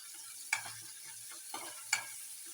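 A paste of garlic, ginger and coriander fries in oil, a soft steady sizzle close by, broken by a few scraping stirs of a spoon in the pan.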